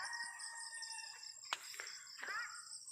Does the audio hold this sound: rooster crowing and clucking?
yes